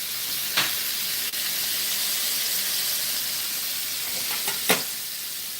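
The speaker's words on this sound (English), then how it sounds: "Yeah, you see how it's sizzling and boiling." Steady close-up sizzling of shrimp frying in a hot pan, a continuous hiss with a few sharper pops and spits.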